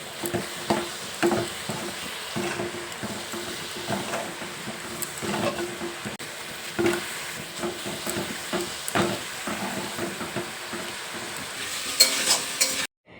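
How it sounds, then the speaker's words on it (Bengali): Spices for a lightly spiced egg curry fry in oil, a steady sizzle broken by repeated scraping strokes of a spoon stirring the pan, near and fairly loud. "খুব হালকা মশলায় আজকে ডিমের ঝোলটা রান্না করছি"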